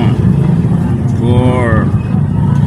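An engine idles steadily just after starting, a loud, continuous low rumble close by, with a voice briefly speaking over it partway through.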